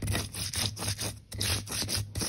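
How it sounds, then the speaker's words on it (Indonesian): Coriander, ginger and pepper being ground to a paste for goat curry: a rhythmic series of gritty rubbing strokes of a pestle against a stone, about eight close strokes with a brief pause midway, no talk. "kemudian saya akan haluskan bersama ketumbar tadi dan jahe dan merica"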